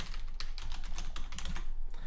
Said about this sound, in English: So I'm just going to go ahead and type in a domain that I hope is going to be free